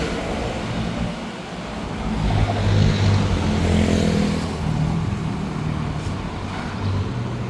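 A 2016 Triumph Street Triple R motorcycle fitted with a genuine aftermarket exhaust and titanium tip idles and revs up nearby, the engine note swelling loudly in the middle before settling back, with no talking.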